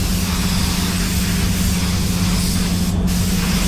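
Spray gun laying PPG LVC-105 clearcoat onto a BMW X5, a steady continuous hiss of atomized paint with a low hum underneath, close and even throughout.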